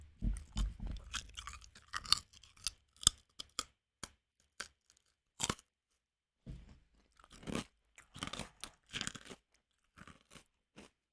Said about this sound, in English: let you guys enjoy some crunchy mouth noises